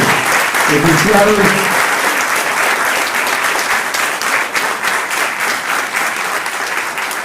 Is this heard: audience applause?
yes